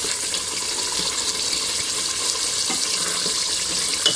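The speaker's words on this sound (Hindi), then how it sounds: "अब हम इसमें पानी डाल देंगे" Water poured into a pot of mutton paya that is cooking with roasted spices, a steady close splashing hiss running continuously and evenly throughout.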